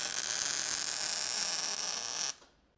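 Electric welder tacking a drive shaft to a socket, a steady close buzzing crackle for about two seconds that cuts off abruptly into quiet.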